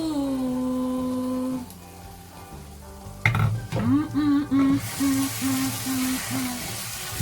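Tomatoes cooking with eggplant and vegetables in a covered pan, with a close, steady sizzle and frying hiss. A lid clatters down midway, and bursts of louder spitting sizzle follow while a musical tone plays underneath.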